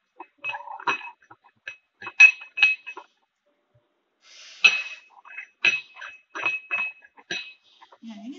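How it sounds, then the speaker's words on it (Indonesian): A pestle grinds a mixture dissolved in a little distilled water inside a mortar, making loud, close, ringing clinks and scrapes in uneven bursts with a short pause midway. "Kemudian kita gerus. Nah, ini juga kita pakai teknik gerus tuang."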